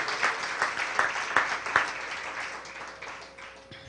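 Applause rises in a church, a crowd clapping in a full wash with a few louder, rhythmic claps early on, gradually fading toward the end.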